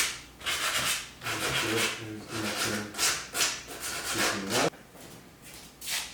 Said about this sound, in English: we're going to sand this area a little bit